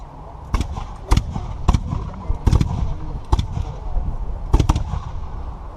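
French troops in formation at a 1758 battle reenactment fire a musket volley down the line, sharp loud cracks going off in uneven bursts and pairs, some close together, over an outdoor crowd murmur.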